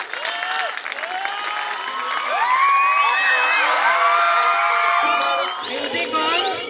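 Audience at a D.A.V. Senior Secondary School annual prize distribution in Hoshiarpur, clapping and cheering with shrill children's shouts and whoops over steady applause. It swells louder midway, then thins near the end.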